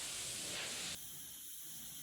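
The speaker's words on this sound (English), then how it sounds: "I'm using a tack rag and compressed air to remove dust" Compressed air blows dust off a Mitsubishi Evo 6 fuel tank before painting, a loud, close hiss that cuts off sharply after about a second, leaving a quieter steady whoosh.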